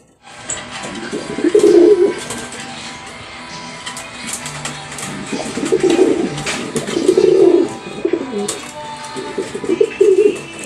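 Racing pigeons coo in a loft, several soft, throaty calls rising and falling close by, repeated through the clip over a faint background hum.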